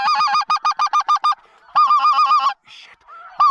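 Geese honk loudly and close overhead during a goose hunt in Alberta, with rapid rhythmic bursts of calls, a short pause, then another dense volley of overlapping honks.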